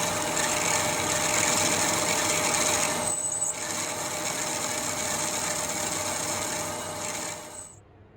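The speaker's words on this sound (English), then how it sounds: "Cutting a slot in the middle to make it into 2 sections." A go-kart part has a slot cut through its middle to split it into two sections, giving a steady, loud, harsh cutting whine that runs nearly unbroken before tapering off at the end.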